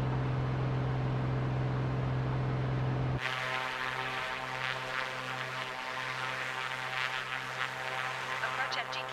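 A Piper Comanche PA24 engine in a flight simulator drones steadily with a strong low hum throughout, the tone shifting partway as other noise joins in.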